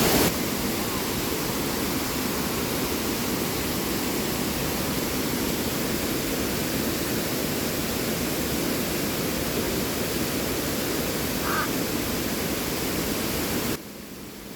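A powerful hidden waterfall at Savane roars in a loud, dense, unbroken rush of falling water that holds steady before dropping abruptly near the end.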